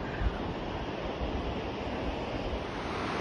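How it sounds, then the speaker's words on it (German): A river swollen after a mudslide rushes steadily below, a broad continuous roar of water heard from above, with no voices. "Und unter mir der Fluss,"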